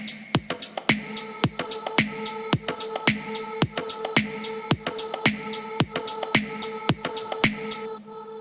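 A percussion loop of conga, bongo and shaker plays with a drum kit in an evenly repeating groove. Crisp hits sound at a steady pulse and fade slightly at the end.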